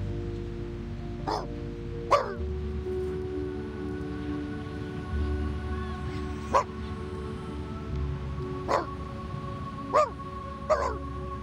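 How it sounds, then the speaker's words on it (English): A puppy gives five or six short, sharp barks and yips spread over several seconds, fairly close, over a steady low hum and drone. "There is a lovely puppy."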